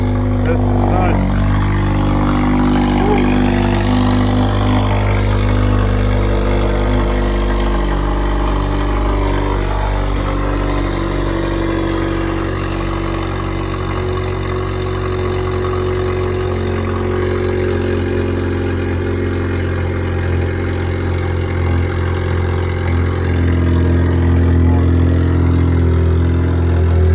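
A 2018-2020 Honda Accord Sport 1.5T with a downpipe idles loudly right after a cold start, a deep continuous droning hum holding close and steady for nearly half a minute after a brief starter burst.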